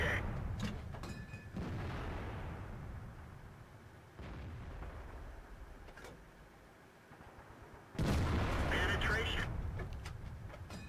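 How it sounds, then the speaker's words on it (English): Tortoise tank firing its 120mm cannon in World of Tanks, a loud booming shot with a long rumbling tail near the start of the clip and a second, heavier blast later on, with game battle noise between them. "Trying to take shots at his weak points."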